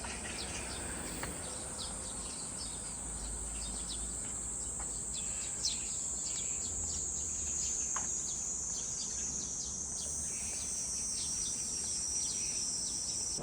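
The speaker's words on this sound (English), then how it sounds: "The loud sound you hear is probably cicadas." Cicadas drone loudly in a rural village outside Beijing on a hot summer day, a constant high buzzing that fills the whole stretch with no pauses, over faint distant chirps and occasional clicks.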